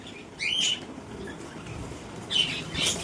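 Pigeons flap their wings in two short bursts, a fluttering rush near the start and another near the end, with faint chirps over a steady outdoor background.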